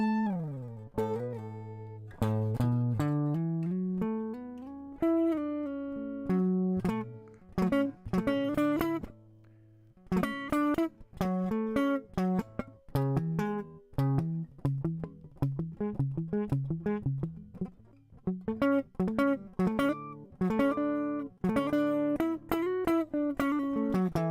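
Plucked electric guitar notes slurred together with hammer-ons and pull-offs, flowing in quick runs with brief pauses, played alone without talking.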